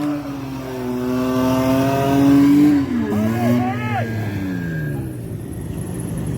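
An open-diff drift car engine revs hard and climbs in pitch, dipping and surging as the throttle is worked, loud and close from inside the car, with voices talking over it.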